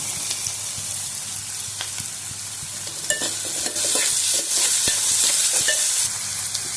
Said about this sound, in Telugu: ఇప్పుడు ఉల్లిపాయ వేగాక కరివేపాకు వేసుకుందాం